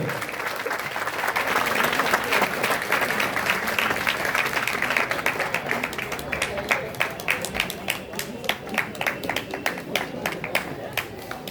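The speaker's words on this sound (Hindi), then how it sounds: "Have a huge round of applause. तालियां रुकनी नहीं चाहिए।" A crowd at a school Teacher's Day celebration in Bhagalpur bursts into loud, continuous applause, the clapping thinning toward the end into sharper individual claps with some voices mixed in.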